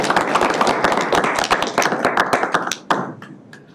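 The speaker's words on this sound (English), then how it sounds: "How about a round of applause?" A small room of people at a board of health meeting claps: a brisk, fairly close burst of scattered handclaps that thins out over a few seconds and stops near the end.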